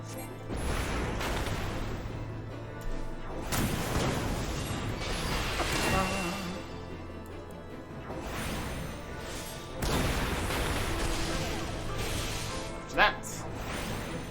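Explosions and crashing impacts in Final Fantasy XIV burst out repeatedly under steady talking, with broad rumbling blasts around the start, middle and end and a sharp hit near the close.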